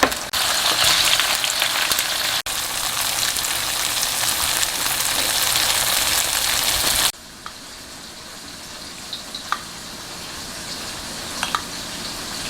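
Tofu for old-fashioned braised tofu reduces in a pan with a steady, loud sizzle for about seven seconds, then drops to a faint simmer with a few small pops.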